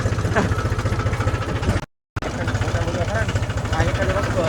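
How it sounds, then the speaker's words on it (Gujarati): A tractor engine chugs nearby with a steady, throbbing rhythm, broken by a brief moment of silence before running on. "ટ્રેક્ટર આપણે કઈ રીતે કાઢી જોવો ઠેઠા માથેથી જાય"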